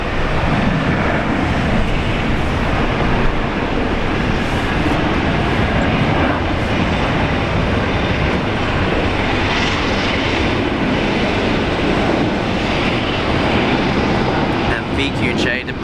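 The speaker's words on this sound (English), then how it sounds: "VQJ departing there, 4th oldest aircraft in the Jetstar fleet." Jetstar airliner VQJ, among the oldest in the fleet, departing Brisbane Airport on a flight to Sydney, its engines producing a loud, steady broadband roar that continues throughout with voices faintly underneath.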